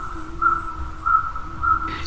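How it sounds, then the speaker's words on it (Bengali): Birds chirp in a jungle setting beside an old temple, with three short, evenly spaced high calls standing out over a steady insect-like drone and low background rumble, moderately loud and with no talking. "পাখির কিচিরমিচির শব্দ শোনা যাচ্ছে।"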